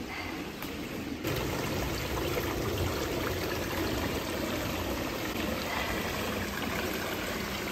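Creek water on the Pinhoti Trail flows and trickles in a continuous close babble, steady and unbroken, with no one talking.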